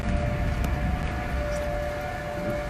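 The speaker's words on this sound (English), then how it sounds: "There go the sirens finally." Tornado warning sirens sounding in North Dakota, a steady distant wailing tone holding over low rumbling background noise throughout the short stretch.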